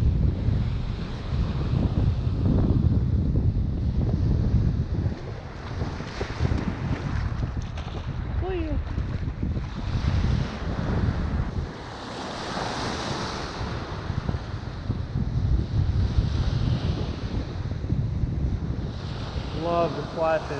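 Strong, gusty wind rushing and buffeting over the ocean during early spring fly fishing for striped bass, a heavy constant roar with surf and water wash beneath, loud and close throughout, with no clear voices.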